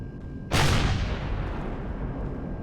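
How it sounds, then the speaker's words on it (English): Rocket volleys fired from a capital ship weapon in the space survival game Empyrion Galactic Survival: a sudden loud blast of launch and fire that roars on as a long, sustained rumble, with no talk. "Two volleys from these rockets."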